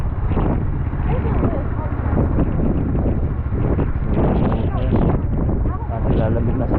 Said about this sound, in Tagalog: tapos nalakas na talaga ang hangin